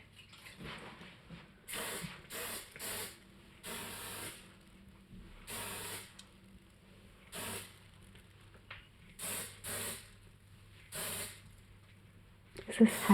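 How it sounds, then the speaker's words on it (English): Hairspray misted in short repeated bursts at a bridal makeup session, roughly eight quick hissing sprays spaced a second or two apart, close and fairly soft against a quiet room. "Is this hairspray?"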